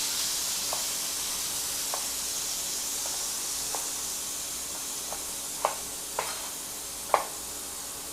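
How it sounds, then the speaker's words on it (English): A too-hot pan is deglazed while making pasta pomodoro, giving a steady, even sizzling hiss, broken by a few faint clicks and pops toward the end. "The pan is too hot, so I deglazed it a little to reduce the temperature."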